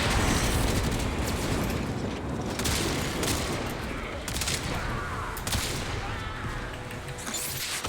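Dense, sustained gunfire and explosive booms from combat against enemies in the Warframe game, continuous and loud throughout with bursts of blasts layered together.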